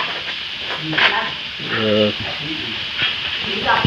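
Tofu sizzles and hisses as it fries in hot oil at a traditional tofu-making workshop in Tinjowan, a steady crackle with voices talking over it.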